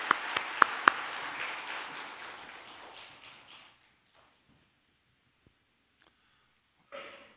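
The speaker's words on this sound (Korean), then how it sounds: "들어가실 때 축복의 박수 해주시기 바랍니다." Congregation applause at a Korean church Sunday service, a dense wash of clapping with a few sharp claps up front that fades out over about four seconds, followed by near silence and a brief stir at the end.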